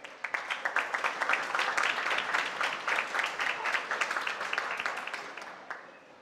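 Applause from the audience at a regional oratory competition awards ceremony in Veraguas province, a moderate crowd clapping in a steady patter that tapers off into a few scattered claps near the end.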